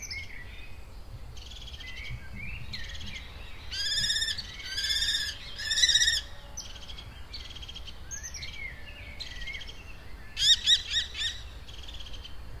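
A pair of common kestrels calling, bursts of sharp high chirping calls in clusters around mid-clip and again near the end, moderately close over a quiet outdoor background.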